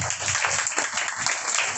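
Sunday worship congregation clapping, a moderate, continuous patter of hands heard at a steady level without speech.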